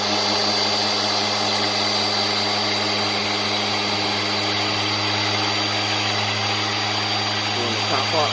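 A power sander works a cloudy Honda or Acura headlight lens with 2000 grit sandpaper, giving a steady, continuous whirring drone at close range that holds constant throughout with no pauses.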